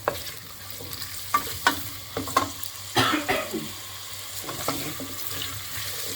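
Onions sizzle in a pot for hünkar beğendi while a utensil stirs and scrapes, with a few sharper clatters over the steady frying hiss.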